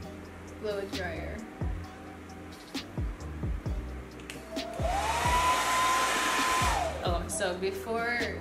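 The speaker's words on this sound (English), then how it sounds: "blow dryer." A handheld hair blow dryer runs at close range, its steady whirring hum rising in the middle for about two seconds over noisy handling and a brief spoken word.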